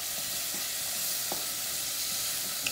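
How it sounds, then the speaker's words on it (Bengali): Spices and onion paste frying in a pan for a chitol fish kofta curry, a steady, loud broadband sizzle with a few faint clicks of stirring throughout and no voices. "এটাকে আমি ভালো করে এখন কষাবো"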